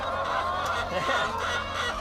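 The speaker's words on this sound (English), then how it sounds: "So this is a brown strain of laying hen that we have." Brown laying hens in poultry housing fill the space with a dense, continuous chorus of clucks and squawks, loud and close, with overlapping calls and no pauses.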